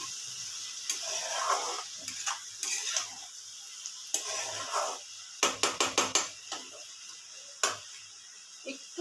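Cauliflower fries and simmers in a pan over low heat, giving a soft sizzle broken by a run of sharp spatula clacks and scrapes against the pan.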